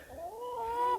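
A chicken in a garden gives a drawn-out, rising-and-falling call lasting about a second, close and moderately loud, with no talking over it.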